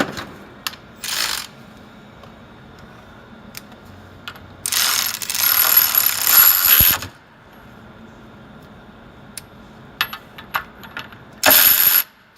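A Mac cordless ratchet runs in three separate bursts, a short one, a long buzzing run of about two seconds, and a final short spin, with light clicks and handling noises in between and no talking.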